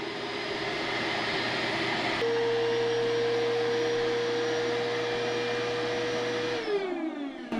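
Electric pump inflating an Airelax air mattress, a loud steady whirring drone that rises in pitch midway, then winds down and stops near the end.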